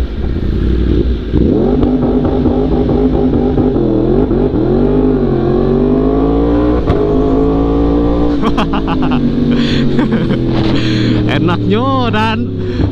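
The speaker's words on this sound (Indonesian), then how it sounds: "Kita coba launch control dari sini ya." A Yamaha R1M motorcycle uses launch control, its engine revving high and climbing through rising pitch sweeps, then crackling with rapid shift blips near the end, loud and close, with someone talking over it.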